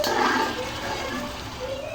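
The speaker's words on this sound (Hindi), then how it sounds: "तब हम इसमें 10 कटोरी जो है वो हम पानी ऐड करेंगे।" Water poured from a bowl into rice for kala chana pulao, a steady broadband splash and gush running continuously for a couple of seconds, close and moderately loud.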